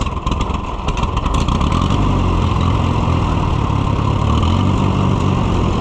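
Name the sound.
old Case tractor engine running rough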